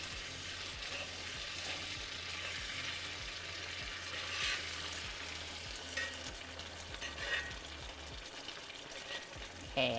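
Chicken frying in a pan gives a steady sizzle while a utensil scrapes browned bits from the bottom, with a repeated low knocking and scraping rhythm throughout, close and moderately loud, with no talking.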